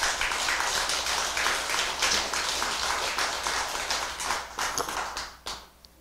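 Sustained audience applause at a Buddhist dharma talk, steady dense clapping from a seated crowd filling the whole stretch, thinning out and fading toward the end.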